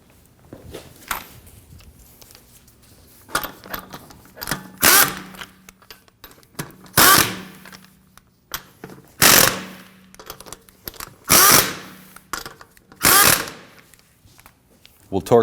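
A power tool snugs down the rear wheel lug nuts on a 2016-2022 Honda Pilot in a series of short, loud whirring bursts separated by pauses, with quieter clinks and handling noises between them.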